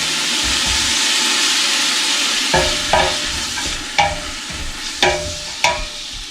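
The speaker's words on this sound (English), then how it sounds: "I'm going to stir it all around." Chili ingredients sizzling in a pot with a steady hiss, broken by several sharp scraping knocks as a utensil stirs them around, alone without talk.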